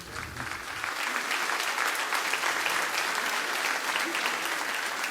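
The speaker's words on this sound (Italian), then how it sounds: "facciamo un applauso solo per te." Warm, sustained applause from a large audience at a choir concert in Tonara, Sardinia, a solidarity event for Amatrice, with dense clapping that stays full and steady throughout.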